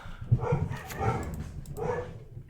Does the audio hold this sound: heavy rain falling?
no